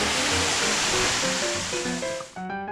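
Yeddi Gozel waterfall in Azerbaijan gives a loud, steady rushing roar of falling water close by, broad and unbroken, with faint tonal sounds layered over it that dip briefly near the end.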